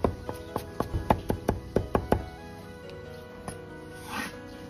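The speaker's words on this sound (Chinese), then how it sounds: "把大蒜先拍破， 生姜也是拍破，然后再剁碎" A knife rapidly minces smashed garlic and ginger on a cutting board, about ten sharp, close chops in a steady run, then the kitchen falls quiet.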